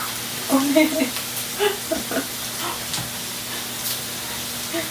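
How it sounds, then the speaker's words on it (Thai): Vegetables sizzle on a hot Thai moo kratha pork grill pan, a soft continuous hiss with occasional sharper spits and crackles, while voices murmur nearby. "ใส่ผักกระเด็นกระดอนไปหมดตั้งเดียว"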